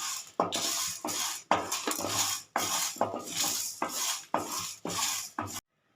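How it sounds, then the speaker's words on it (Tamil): Coriander seeds, chana dal, fenugreek, pepper and dried chillies dry roasting in a pan, with a spatula scraping and tossing them in repeated rough strokes about once per half second, close and loud, ending abruptly in silence. "இதை ட்ரை ரோஸ்ட் பண்ணிக்கலாம்"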